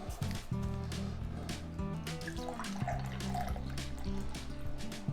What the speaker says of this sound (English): pour out a little bit of your grape juice into a glass